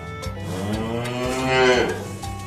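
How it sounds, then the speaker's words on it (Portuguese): An ox mooing with one long, deep, drawn-out low that swells and then fades, close and loud over soft backing music. "Se você respondeu que esse é o som do boi"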